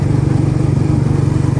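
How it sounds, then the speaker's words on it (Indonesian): Suzuki GSX R150 motorcycle engine running steadily, a loud close throbbing drone with a fast even pulse, alone without talk. "kalau di RPM tinggi itu dia meraung gitu, menjerit juga gitu, sangar juga gitu"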